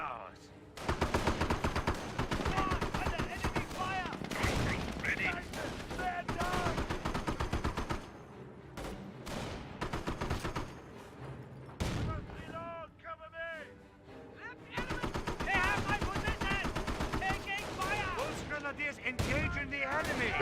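Battle in Company of Heroes, a WWII strategy game: dense, sustained bursts of rifle and machine-gun fire with heavy impacts, loud and continuous apart from brief lulls, with tonal game sounds and voice clips mixed in.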